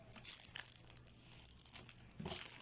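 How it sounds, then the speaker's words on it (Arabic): Cellophane from a plastic bag crinkles and rustles up close while being handled and cut for a miniature Barbie microwave craft, with bursts of crackling near the start and end and quieter handling in between. "هنبدأ دلوقتي بقى نقص السلوفان."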